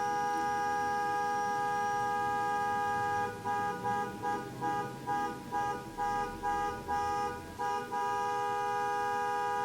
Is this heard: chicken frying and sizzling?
no